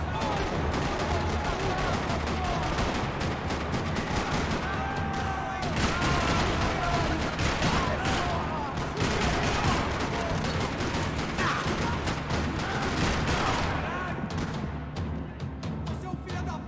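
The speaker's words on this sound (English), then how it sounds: "Another parking lot rattling with gunfire." Gunfire rattling across a parking lot in Max Payne 3, dense bursts of rapid shots and automatic fire crackling almost continuously at high volume, with voices mixed in among the shooting.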